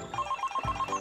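A telephone rings during a call with a rapid, trilling electronic bell pattern, loud and close, in a short burst that ends with a low thump.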